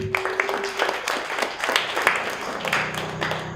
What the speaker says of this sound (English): Let's give him a round of applause for recording this event.